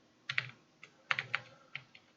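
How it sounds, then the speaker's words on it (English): Keystrokes on a computer keyboard while entering a value in Blender, a short irregular run of crisp clicks with brief pauses between them, close and clear, with no talking. "Just type in the value on the keyboard."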